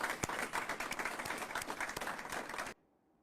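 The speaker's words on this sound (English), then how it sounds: "Let's give them all a round of applause." An audience at an award ceremony gives a round of applause, dense overlapping clapping at moderate volume for under three seconds before it cuts off abruptly into near silence.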